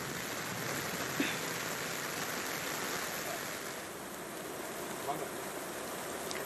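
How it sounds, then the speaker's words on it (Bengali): Heavy downpour in Asansol during the Durga Puja festival, a dense, even hiss of rain drumming on surfaces throughout, with a few brief louder taps. "চতুর্থীতে মুষলধারে বৃষ্টি আসানসোলে।"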